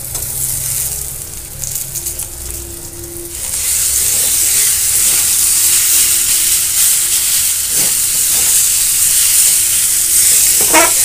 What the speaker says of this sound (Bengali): এবারে যে সেদ্ধ আলুগুলো নিয়েছিলাম আলুগুলোকে আমি ভেঙে এর কড়াইতে দিয়ে দেব।